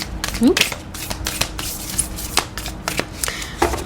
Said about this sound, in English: Little tough to shuffle this deck, but I'm trying.